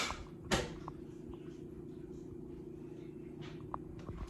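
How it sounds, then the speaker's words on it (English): A house door opens late at night: one sharp latch click near the start, then faint creaks and small knocks over a steady low hum. "I hear the door"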